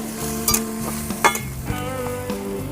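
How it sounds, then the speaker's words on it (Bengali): Drumstick (moringa) pieces in a small amount of water sizzle and bubble in a pot as it comes to a boil, a steady close hiss broken by a few sharp clinks and stirring knocks. "জলটা একটু ফুটে উঠেছে"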